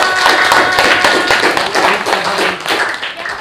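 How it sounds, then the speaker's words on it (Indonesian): A short burst of clapping from a class group, about three seconds, hands patting in a fast irregular patter, fairly close and loud, fading slightly at the end. "Beri tepuk tangan untuk kelompok 6"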